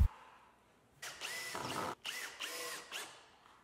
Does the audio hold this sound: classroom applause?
no